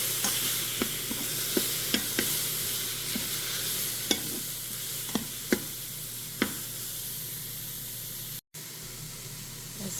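Mushrooms sizzle steadily in an Instant Pot after beef has been seared, with a spoon scraping and knocking against the pot bottom in sharp taps every second or so and no talking.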